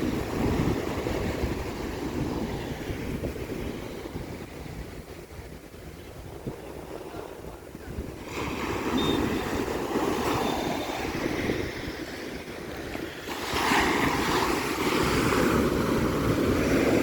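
Steady roar of sea surf washing onto the shore, with wind buffeting the microphone and a surge of louder waves near the end.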